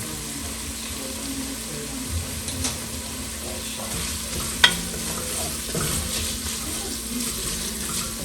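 Rosa Marina soup stirred in a pot after salt goes in, a steady low simmering wash with soft spoon scrapes and a sharp clink near the middle.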